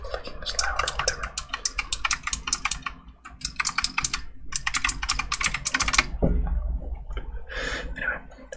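Rapid clicking of computer keyboard typing comes in dense bursts with short pauses between them, close and crisp, while a voice talks softly underneath at a low level.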